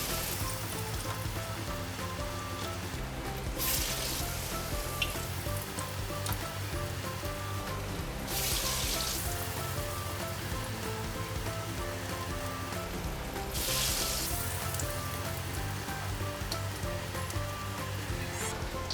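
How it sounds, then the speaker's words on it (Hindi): Fish frying in hot oil for a Lahori-style masala fish fry, a steady close crackling sizzle that runs unbroken throughout, swelling in brief louder bursts. "यहाँ पे ऑयल हमारा गर्म हो चुका है और अब हम इसमें फ़िश शामिल करेंगे"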